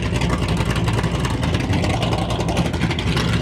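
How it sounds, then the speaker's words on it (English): A drag racing car doing a burnout at Santa Pod Raceway, a continuous loud roaring engine with tyre noise, steady and close throughout with no break. "That's the burnout."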